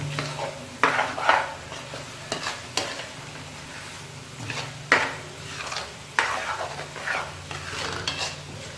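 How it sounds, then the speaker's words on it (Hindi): Dal mash lentils fry in ghee while a spoon stirs and scrapes the pan in repeated strokes every second or so over a steady low sizzle, close by and without talk. "दाल को मैंने मज़ीद इसके अंदर 5 मिनट भूनना है"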